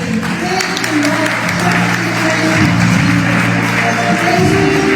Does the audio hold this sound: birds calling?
no